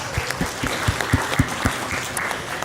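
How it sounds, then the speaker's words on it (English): Applause from an audience at a scholarship and awards ceremony, a run of fairly soft, regular claps that swell and fade over a few seconds with a faint cheer, no talking. "so let's give her a round of applause."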